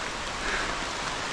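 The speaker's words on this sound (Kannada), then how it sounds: "ಸಡನ್ನಾಗಿ ಸ್ಟಾರ್ಟ್ ಆಯಿತು ಮಳೆ" Rain starting suddenly on a forest trek in Maharashtra's Ghats, heard as a short, soft, even hiss of falling drops with no voices.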